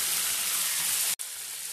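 A soft continuous bubbling sizzle from matar paneer curry (peas and paneer) boiling in a pan on the stove, steady and close, with a brief break near the end.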